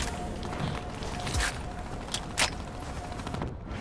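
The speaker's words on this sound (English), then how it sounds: "Why did I choose to use this shotgun?" A shotgun fires in a video game: a few sharp, short blasts spaced over a few seconds against a steady background of game noise.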